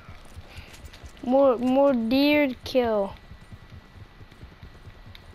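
A horse's hooves clip-clop at a steady pace in the Red Dead Redemption 2 video game, heard at low level beneath someone speaking.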